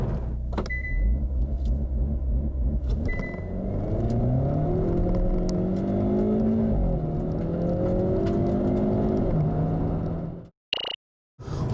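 A Hyundai Veloster N with dual-clutch transmission in N mode using launch control roars through a hard acceleration run, engine pitch climbing in stepped gear pulls, loud and close, then cutting off abruptly near the end with brief near-silence.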